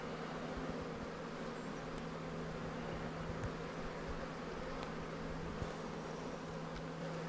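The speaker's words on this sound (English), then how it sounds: "this hive is just crawling with bees" Bees swarming over the frames of an open beehive, a continuous low buzzing hum from many insects close by, steady and faint with occasional rustles, no voices.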